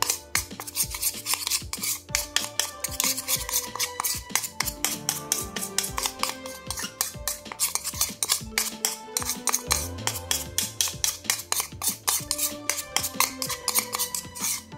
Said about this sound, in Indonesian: Lalu kita aduk dahulu sampai tercampur dengan rata ya, sampai berbentuk seperti pasta.